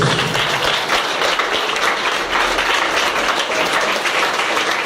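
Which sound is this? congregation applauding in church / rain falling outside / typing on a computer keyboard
congregation applauding in church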